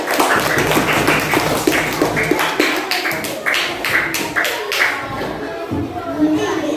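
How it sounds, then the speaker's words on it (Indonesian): Scattered group clapping in a classroom for group 4, a quick burst of many sharp claps at close range, running steadily and thinning toward the end, with faint voices mixed in. "tepuk tangan untuk kelompok 4"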